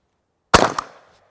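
A single 300 Blackout rifle shot fired through a Dead Air Ghost suppressor: one sharp, fairly loud crack, a quick second pop, then a short fading tail in open air.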